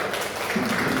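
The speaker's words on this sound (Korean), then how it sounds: "하나님께 영광의 박수 드립니다." Church congregation applauding after a youth service prayer, a steady wash of clapping throughout, moderately quiet and without distinct individual claps.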